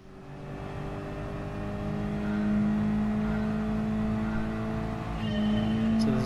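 Several race car engines in the video game Gran Turismo Sport drone and rev together at the start of a race, a loud steady hum that swells after a few seconds and holds.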